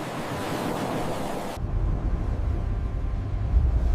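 Ocean waves in an AI tsunami simulation: a broad surf roar that shifts partway through into a deeper, rumbling wash with wind noise, loud and continuous.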